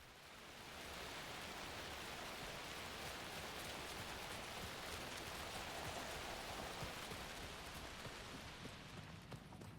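Steady rain in the video game Alan Wake II hisses evenly throughout, a soft constant wash of falling drops at low volume.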